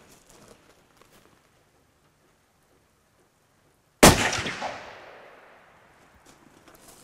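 After near silence, a single sharp rifle shot, fired from a shooting stick, cracks loudly, its echo rolling away over a couple of seconds.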